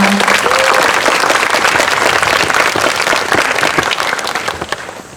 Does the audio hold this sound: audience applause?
yes